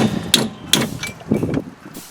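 Hammer blows striking a steering knuckle on a 2001 Pontiac Grand Am during a front wheel bearing and hub job: three or four sharp metallic impacts, close and fairly loud, spaced irregularly over a couple of seconds.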